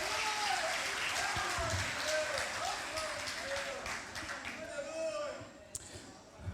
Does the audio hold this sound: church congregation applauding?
yes